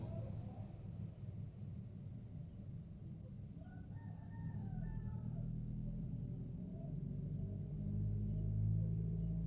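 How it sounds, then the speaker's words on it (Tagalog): A vehicle passes on a road in the Philippines as a low rumble that swells gradually and grows louder toward the end. Faint insect chirps sound in the background. "Mayroong dumadaan na sasakyan guys."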